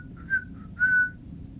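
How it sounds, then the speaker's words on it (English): A woman whistling a light tune in a home kitchen while baking, two short melodic phrases standing out clearly above faint low background noise. "I'm going to whistle while I work."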